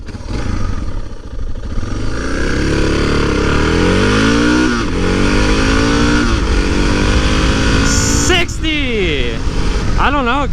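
A DR650 dual sport motorcycle accelerates hard from 0 to 60 on an offroad run, its loud close engine rising through several gear changes with the pitch climbing and dropping, then backing off at the end.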